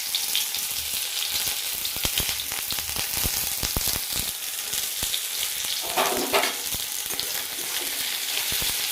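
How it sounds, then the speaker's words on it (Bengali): Chopped onion sizzles and crackles steadily in hot oil in a home kitchen pan, a loud dense frying hiss with occasional stirring scrapes and pops throughout. "তেল গরম হয়ে গেছে, দিয়ে দেবো পেঁয়াজ"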